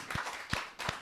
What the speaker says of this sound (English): So Round of applause to Webby for the.